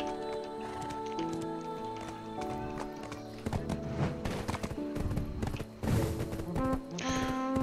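Rhythmic hoof clip-clops from a horse in the video game Black Desert Online, over a busy backdrop of layered music and effects, with occasional louder bursts throughout.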